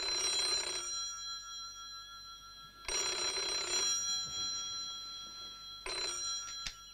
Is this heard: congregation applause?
no